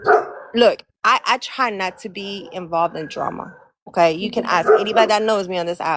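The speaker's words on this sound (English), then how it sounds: "that's my dog. I apologize." A pet dog barks in the background during a live online chat, its short barks mixed under near-continuous close talking by a woman.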